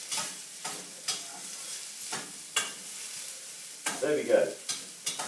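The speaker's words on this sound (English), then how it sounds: "Those can continue to fry" Onion and chilli pieces fry in a pan, stirred in a string of distinct scraping strokes over a soft sizzle, close and fairly quiet, with a brief spoken remark partway through.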